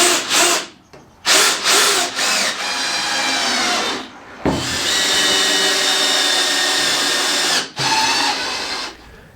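A power drill drives screws through anchor brackets on a Veikous 6x8 foot greenhouse kit, with several short whirring bursts followed by two long, loud, steady runs, all close up.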